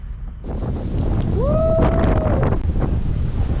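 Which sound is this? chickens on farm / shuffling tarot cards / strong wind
strong wind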